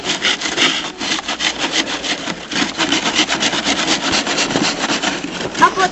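A small twig is sanded by hand with firm pressure, giving a steady run of rhythmic, rasping strokes up close.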